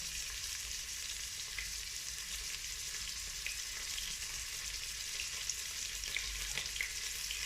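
Beef browns for bourguignon in a Cookeo multicooker with a steady, close crackling sizzle and occasional light pops of frying, and no voices over it.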